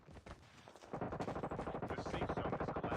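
Rapid automatic gunfire in Call of Duty: Mobile, a steady stream of close, loud shots after a brief quieter lead-in, fired blindly at a wall.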